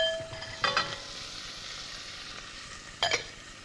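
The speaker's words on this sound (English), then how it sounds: "You heat up a pan, add some butter into it, melt it, add the vegetable one by one" Vegetables frying gently in melted butter in a pan, a quiet steady sizzle with two short bursts of louder crackle and scraping as the pan is stirred.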